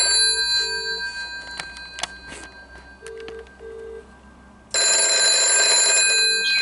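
A GPO 746 rotary telephone bell sounds in short ringing bursts, with scattered clicks between them, before a loud sustained metallic ring takes over near the end. The ringing is close and clear.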